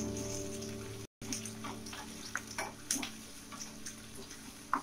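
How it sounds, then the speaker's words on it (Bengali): Onion, garlic, green chilli and onion leaves fry lightly in a pan for a Bengali lettuce shak dish, giving a close, steady sizzle dotted with small crackles and pops, with a brief dropout near the start. "ভেজে নেব, হালকা ভেজে নেব।"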